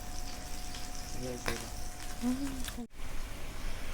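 Bacon sizzling on a Thai moo kata grill, a steady soft frying hiss running throughout with faint crackles, while someone talks over it.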